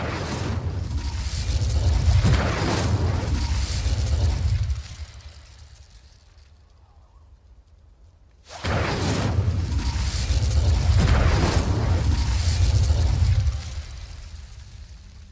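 A fire spell cast in the video game Hogwarts Legacy: a loud, roaring burst of flame with a whooshing rush, dying to near silence before a second long fiery blast erupts and then fades.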